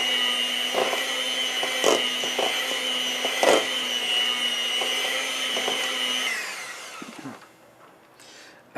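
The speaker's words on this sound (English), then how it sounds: "I think we're ready to mix it all together." Cake batter being mixed with an electric hand mixer, a loud, steady whine running for about six seconds before cutting off, leaving faint clatter and quiet room sound.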